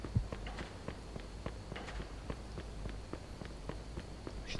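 Footsteps of a character walking in Mafia II: a steady, evenly spaced series of moderate thuds over low ambient background noise.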